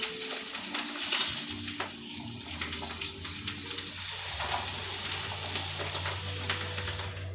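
Zucchini noodles cook in a pan with a steady, close sizzle and soft stirring scrapes, a low hum underneath, and no talk.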